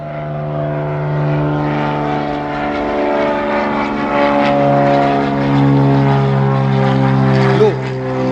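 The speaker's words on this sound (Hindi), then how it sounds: "लो, देखो विमान आ रहा है" A propeller airplane drones steadily and close, its engine hum holding constant through the whole stretch, with a brief rise near the end; no one speaks over it.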